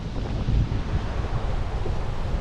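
Strong gusty wind on the Black Sea shore at Anapa on a cold morning, roaring steadily into the microphone with surf rumbling underneath, loud and continuous throughout with no voices.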